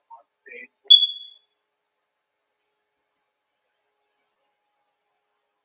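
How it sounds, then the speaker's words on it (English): A smoke detector in a courtroom gives one short, sharp, high electronic chirp just after a couple of faint clicks, then near silence follows. "Oh, the smoke detector. Let me handle this smoke detector."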